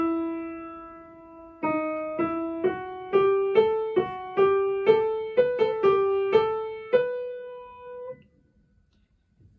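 Main theme of Medtner's Night Wind Sonata, a vocal, arioso-like melody played alone without accompaniment, a clear single line of sustained notes with gentle plucked-like attacks, moving stepwise over about eight seconds before fading to silence.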